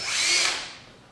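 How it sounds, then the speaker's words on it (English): A power drill drives a bolt while a wooden chicken coop is being built, giving one short, loud whirring burst that rises quickly and then fades away. "drill this in."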